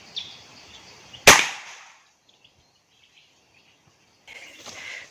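A single sharp gunshot rings out in a forest while hunting birds and squirrels, loud and close with a decaying tail, amid quiet woodland ambience and faint insects or birds.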